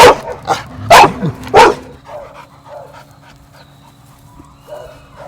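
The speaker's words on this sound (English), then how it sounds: "Has Samantha barked at all" A shelter dog barks three or four times in quick succession, loud and close, then settles into quiet panting and soft whimpers.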